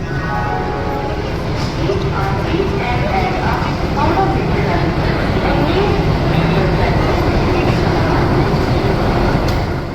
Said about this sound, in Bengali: তো দেখতেই পাচ্ছ আমাদের ট্রেন এখন ছেড়ে দিয়েছে